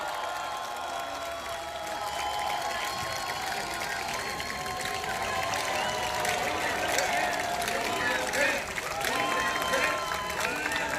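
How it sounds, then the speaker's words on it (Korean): A lecture-hall audience at a Seoul National University forum applauds to welcome a speaker, a continuous wash of clapping from a large crowd, moderately loud and steady throughout. "큰 박수 부탁드립니다."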